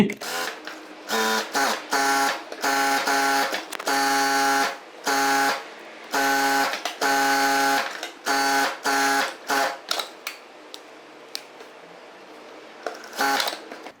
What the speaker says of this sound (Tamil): இப்போ நம்ம தையல் போட்டுக்கலாம் சுற்றி